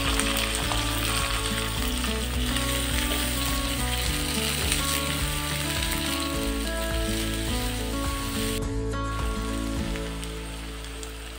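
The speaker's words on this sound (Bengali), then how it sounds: "পেঁয়াজ মরিচ আদা ভাজা হয়ে আসলে দিয়ে দিব সিমগুলো" Chopped garlic, onion, ginger and green chili frying in hot oil give a loud, steady sizzle with fine crackling that runs without a break and eases slightly near the end; no voices.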